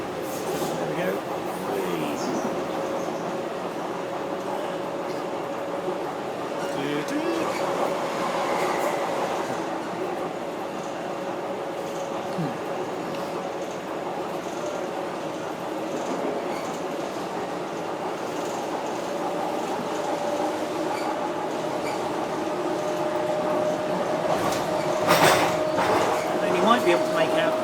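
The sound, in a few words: train running on London rail line towards Stratford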